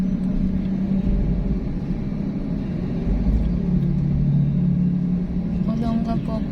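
Slow road traffic moves past road works in Guagua, Pampanga, a continuous close rumble of car engines with slight revving near the end.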